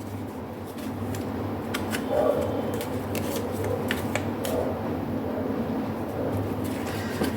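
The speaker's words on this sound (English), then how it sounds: "It's a difficult deck, as you can see, to shuffle" A thick deck of tarot cards is shuffled by hand, giving a run of soft riffling and flicking card sounds over a steady low hum, close and fairly quiet.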